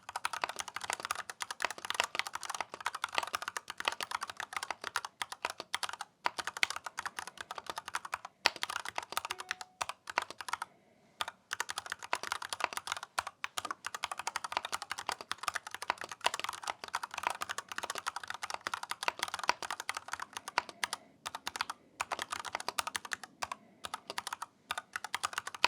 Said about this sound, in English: the sound of this keyboard